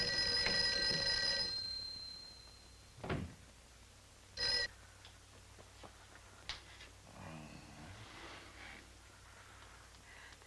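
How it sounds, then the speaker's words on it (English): A telephone rings unanswered in a quiet room, a bright repeating bell burst at the start followed by sparse knocks and faint background noise with no voices. "Mary, see if you can get Jan on the phone."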